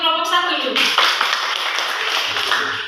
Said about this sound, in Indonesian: Tepuk tangan untuk kelompok 1 dulu.